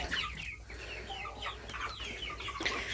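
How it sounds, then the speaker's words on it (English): A salmon Faverolles rooster and a flock of young hens cluck and chatter close by inside a barn, with steady overlapping calls and a few sharper squawks across the whole stretch. "The pretty rooster you see dancing around them is Hawkeye."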